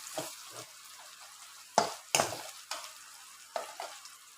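Dinuguan with onions is stirred in a frying pan, a steady close sizzle broken by repeated sharp scraping strokes of the spoon against the pan.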